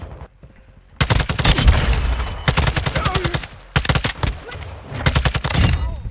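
TAQ-56 assault rifle fire in Modern Warfare II: loud, close full-auto bursts of rapid evenly spaced shots, separated by short pauses.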